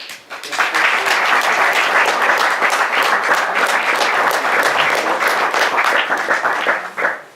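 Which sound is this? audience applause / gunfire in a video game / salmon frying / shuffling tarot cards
audience applause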